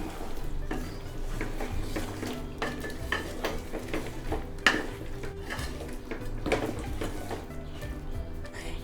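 Half a kilo of taro root being stirred into fried spices in a pot for a shrimp dish, with irregular spoon scrapes and clanks against the metal over a low sizzle, close and steady.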